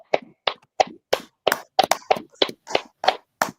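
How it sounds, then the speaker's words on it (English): About a dozen sharp, evenly spaced hand claps ring out in a steady rhythm at a school gathering honoring the officers, close and crisp with silence between each clap and no talking. "give them a round of applause, the officers"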